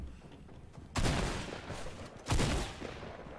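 Fortnite gunfire: two loud bursts of rapid shots, one about a third of the way in and another near two-thirds, each fading quickly over low background noise.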